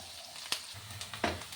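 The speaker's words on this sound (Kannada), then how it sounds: "ಈರುಳ್ಳಿ ಫ್ರೈ ಆಗ್ತಾ ಇದೆ ನೋಡಿ" Onions frying in a pan, a soft steady sizzle with two brief stirring scrapes in a short stretch; no talking.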